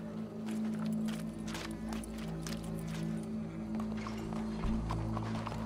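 Horse hooves clip-clopping in Red Dead Redemption 2, a steady, moderately close stream of hoofbeats over a low, humming background.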